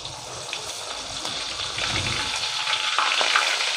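Mackerel frying in hot oil over raised heat, a dense, steady hiss and crackle that swells slightly louder toward the end, close and continuous with no voices.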